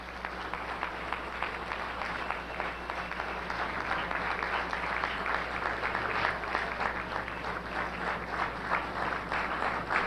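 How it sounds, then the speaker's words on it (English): An audience at a lecture by Kwame Ture breaks into a warm, sustained round of applause, dense steady clapping filling the room without letup. "let us give a warm round of applause for our brother, Brother Kwame Ture"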